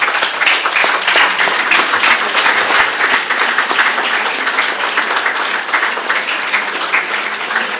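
An audience at a book launch claps in a loud, dense, continuous burst of applause that stays strong and even throughout.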